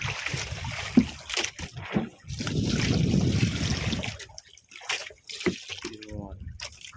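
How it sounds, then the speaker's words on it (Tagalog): Water poured into a styrofoam box aboard a fishing boat, a burst of splashing liquid near and fairly loud for a couple of seconds amid drips and boat movement. "Tapos lalagyan ng tubig. Kaunti lang na tubig yung ilalagay natin."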